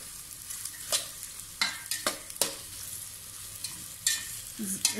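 Onion is stirred into hot oil in a pan for achari bhindi masala, with a low sizzle and intermittent scraping strokes from the spoon, close and fairly quiet.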